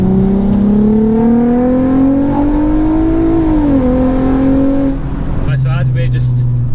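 A VW Golf R32 fitted with a swapped-in 3.6-litre R36 engine cruises on the road, its drone climbing steadily, dipping as it eases off, then settling to a low idle-like hum, with occasional talk inside the cabin.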